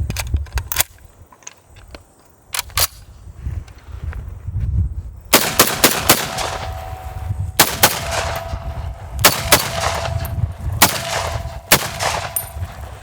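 A homemade replica of a Call of Duty gun fires loud, concussive shots, a few isolated blasts and then rapid repeated bursts close by.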